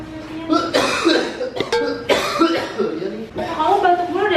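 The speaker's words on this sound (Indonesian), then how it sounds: "Kamu batuk mulu dari semalam." Someone coughs repeatedly in a bedroom, several rough bursts in close succession, loud and near, mixed with a person speaking between and over the coughs.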